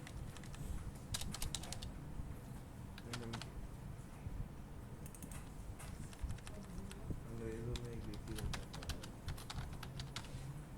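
Rapid clicking keystrokes on a computer keyboard come in uneven bursts and pauses against a steady, noisy room background, with a faint voice murmuring underneath.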